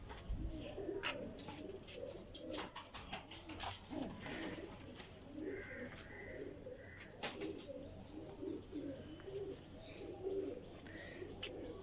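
Breeder pigeons cooing in a loft, repeated soft low coos in an irregular rhythm close by, with occasional chirps and someone talking quietly over them.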